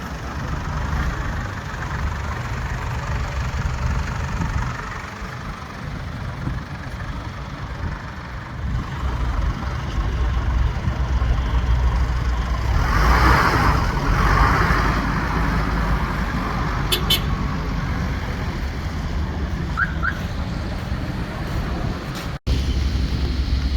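A war-bound vehicle's engine rumbles low and steady at idle, then its drone swells slightly as it pulls away, heard at moderate distance under wind and road noise with no speech.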